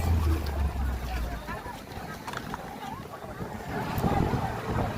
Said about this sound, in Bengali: গাইস খুব হাওয়া হচ্ছে, সত্যি বলছি